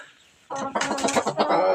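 A broody Kuchin hen being set on a clutch of thirteen eggs clucks in a run of close, throaty calls that start abruptly after a quiet moment and continue steadily.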